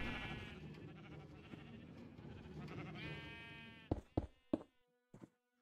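Sheep bleat in Minecraft, several short, sharp calls near the end following a stretch of background game music, fairly close and clear against otherwise quiet surroundings.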